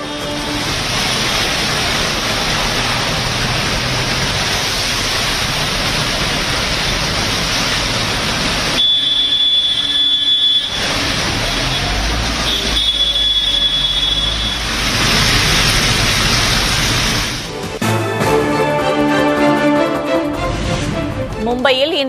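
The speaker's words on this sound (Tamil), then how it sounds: "மகாராஷ்டிர மாநிலம் மும்பையில் விடிய விடிய பெய்த கனமழை." Heavy overnight rain in Mumbai, a dense continuous hiss of downpour with brief cuts between shots, loud and close, with no one talking.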